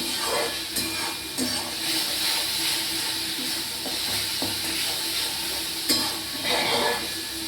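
Spice paste sautés in a pan with a continuous close frying sizzle, broken by a few scraping stirs of a spoon, while someone talks over it.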